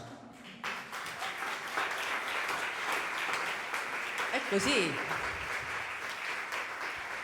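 Audience applause for the Oberdan choir at a regional choral event, a steady wash of clapping from a crowd filling the space, with a voice speaking briefly over it.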